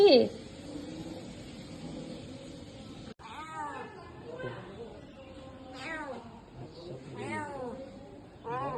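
A pet cat gives several drawn-out meows close by, with a sharp cry at the start, while people talk softly in the background.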